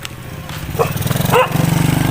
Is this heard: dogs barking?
yes